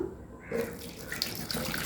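Tap water gushing into a container as about half a litre is added while making homemade liquid detergent with caustic soda, a steady close splashing rush starting after a brief quiet moment.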